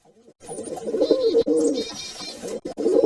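A pigeon coos in soft, throaty repeated calls, close by and fairly clear, with brief pauses between phrases.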